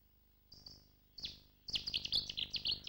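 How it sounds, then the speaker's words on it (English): Cetti's warbler, a British bird, gives a loud, rich song: a few sharp introductory notes followed by a rapid burst of explosive chup-like phrases, heard clearly with no other sound. "In its loud, rich song, the Chetty's is supposed to say "Chetty, Chetty,""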